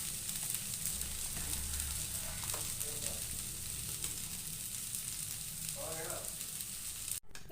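Sambar, a lentil stew with tempering, simmers and sizzles in a pot with a steady, close crackling hiss that runs unbroken throughout, with faint stirring bits and a sharp knock near the end.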